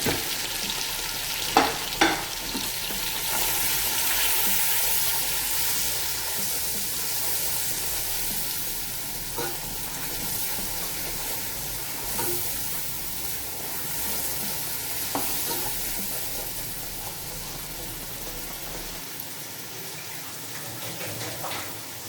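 Spices sizzle and fry in a pan while being stirred, a steady close hiss with occasional scraping clinks of the spoon against the pan, continuous for over twenty seconds with no talking.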